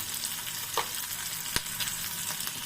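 Onions and chillies fry in oil until soft, a close, steady sizzle with a couple of sharp clicks and scrapes from stirring, with no speech.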